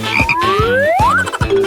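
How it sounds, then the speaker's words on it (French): A toad croaks in a series of short, loud, close pulses, with rising whistle-like tones sweeping over them in a playful indoor setting. "Non, c'est un crapaud."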